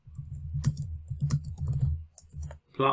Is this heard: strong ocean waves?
no